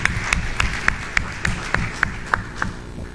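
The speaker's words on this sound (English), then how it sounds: "Please, a round of applause." An audience applauds at a live-streamed talk session, heard as a steady patter of clapping with sharper individual claps standing out at regular intervals.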